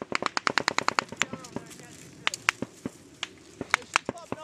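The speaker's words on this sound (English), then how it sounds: "They're just shooting over our heads." Combat gunfire with rounds passing overhead, a rapid burst of sharp cracks followed by scattered single shots and short volleys, some near and some distant, with soldiers talking in between.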